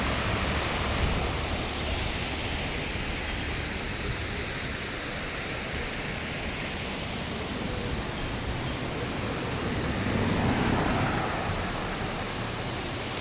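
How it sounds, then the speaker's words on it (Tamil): Flowing water at Burliyar rushes in a steady, dense hiss that swells slightly later on, continuous and close with no voices over it. "அங்கங்கே தண்ணி வந்துக்கிட்டு இருக்கு"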